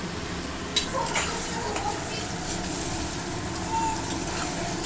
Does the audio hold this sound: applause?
no